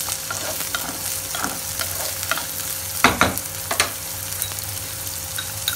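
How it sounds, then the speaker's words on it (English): Chopped onion frying in hot oil with dry red chillies and cumin seeds, a continuous close sizzle broken by a few sharp spatula scrapes and stirring clinks, no voices. "Now add chopped onion or pyaz."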